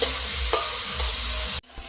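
Food fries in a pan with salt and turmeric as it is stirred, giving a loud, continuous sizzle with a few scraping stir strokes, close by, before a brief drop near the end.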